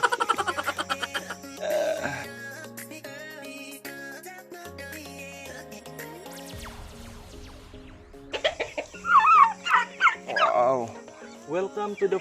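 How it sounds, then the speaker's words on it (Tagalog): Music plays for a while, then turkeys on a farm burst out gobbling in quick, loud bursts close by, several birds calling over one another. "Mga alagang pabo."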